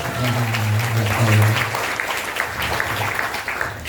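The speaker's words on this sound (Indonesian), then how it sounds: "Beri aplaus." New engineering and science students clap at a university faculty welcome event in Bogor, a steady room-filling wash of applause that holds for several seconds before thinning out.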